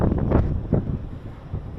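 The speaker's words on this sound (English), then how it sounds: "Now the wind is starting to pick up." Strong wind gusts blasting the microphone while hiking on Mt. Hakodate in Hakodate, Japan, loud low-pitched rumbling that surges and eases in uneven bursts.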